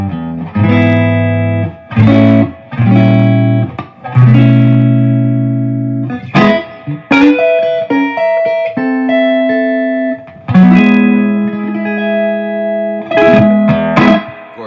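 Electric guitar chords and single notes through a Two Rock Studio Signature amp ring out with a lush, spacious reverb tail, played in bursts with short pauses, loud and close.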